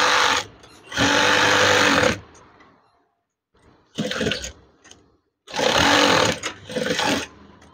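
Sewing machine stitching the folded hem of a wide curtain, three loud buzzing runs of stitching separated by short pauses, close to the machine with nobody speaking.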